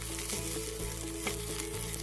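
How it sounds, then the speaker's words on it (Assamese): Ridge gourd peels frying in a pan over low flame, a steady soft sizzle with occasional faint stirring scrapes and no voices. "এতিয়া আমি এইখিনি অলপ সময় এনেদৰে ভাজিম।"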